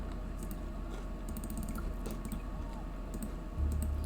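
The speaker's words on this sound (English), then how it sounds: "Sorry that you have to listen to the crunching." Someone eating crunchy food close by during a nest-building game session, with soft irregular crunches and clicks running steadily over a low background drone.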